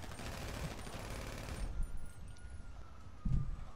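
Bursts of rapid automatic gunfire in a multiplayer shooter video game, a dense crackling fusillade for the first part that thins into scattered shots, with a heavier burst near the end.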